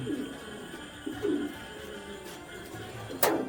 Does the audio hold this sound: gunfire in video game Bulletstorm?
no